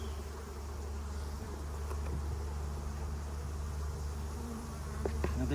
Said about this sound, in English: I have made a lot of bees mad.